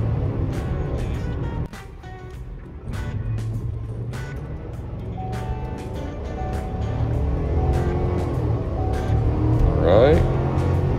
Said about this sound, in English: And now let's do a 0 to 60 test.